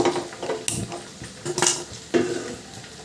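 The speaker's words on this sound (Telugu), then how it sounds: "ఇలా ఎర్రగా ఫ్రై అయ్యే వరకు వేయించుకోవాలి" Chicken fried rice being fried and stirred in a pan, with a run of metal spatula scrapes and clinks against the pan over a soft background hiss, close and moderately loud.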